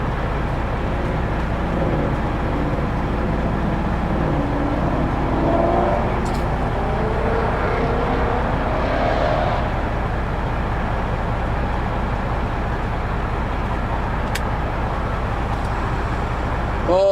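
A Ford Mustang driving past on a road, a loud, steady engine and road roar that holds throughout with a slight swell midway, heard from close by.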